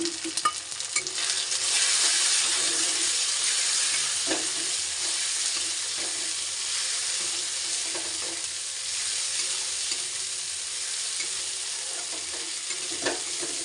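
Spices sizzle as they are stirred and fried together in a pan, with a continuous close hiss and occasional spoon scrapes throughout.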